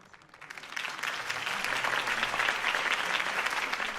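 In Batman: The Telltale Series, a crowd applauds after Harvey Dent's campaign speech, loud, sustained clapping that swells after the first second and stays full and even to the end.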